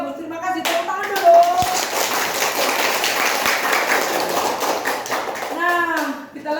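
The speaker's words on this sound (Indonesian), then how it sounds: "Tepuk tangan dulu." A class of children claps hands together in a classroom, a dense burst of rapid clapping lasting several seconds, with a teacher's voice and children's speech heard at the start and end.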